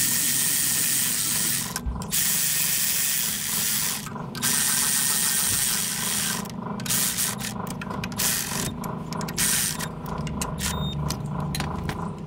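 Ratchet clicking in repeated bursts with brief pauses while snugging the thermostat housing bolts on a 2015 Chevrolet Silverado, close and steady under low workshop hum, no talk.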